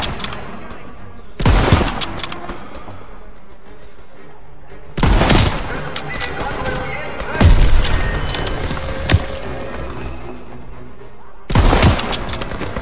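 Bursts of Call of Duty WW2 gunfire, loud repeated volleys and booms spaced several seconds apart, with a voice talking in Italian between and over the shots.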